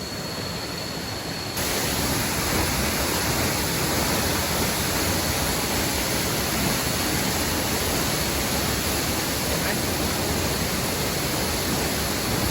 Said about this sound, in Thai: นี่ก็คือน้ำตกหมอกฟ้านะครับที่เรามาถึงครับ